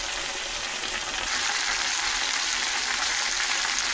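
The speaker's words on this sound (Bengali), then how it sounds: "ঢ্যাঁড়স আর আলুটা ভাজা ভাজা হচ্ছে" Okra and potatoes frying in a pan, with a close, steady, even sizzle of hot oil and faint stirring, no voices.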